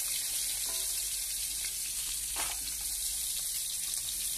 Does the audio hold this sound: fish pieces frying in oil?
yes